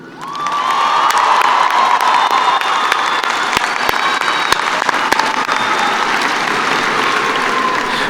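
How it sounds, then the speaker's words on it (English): A large audience at a college commencement ceremony breaks into sustained, loud applause with some cheering, a dense continuous wash of clapping that rises quickly and holds steady throughout. "Please join me in a round of applause for Ms. Adria Dunn Harris"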